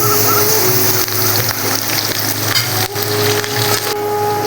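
Curry leaves dropped into potatoes frying in hot oil give a steady, close, broadband sizzle and crackle that runs the whole time with small bursts, and no one speaks.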